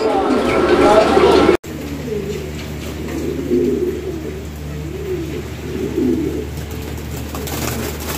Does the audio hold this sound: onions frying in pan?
no